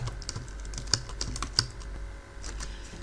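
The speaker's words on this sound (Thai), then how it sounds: "พิมพ์ด้วยมือก็แล้วกัน" Fingers tap out code on a computer keyboard, giving close, irregular clicks with a couple of sharper key strikes.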